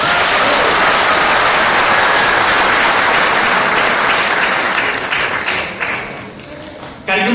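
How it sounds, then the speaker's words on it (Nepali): Sustained, loud applause from a large audience at a speech given in Japan, dense and continuous before thinning out near the end. "यो सत्य हो भने ताली बजाउनुस्।"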